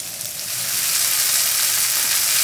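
Beef sizzling in hot oil in a pan, a steady, close, bright frying hiss that swells slightly and then holds without any talking.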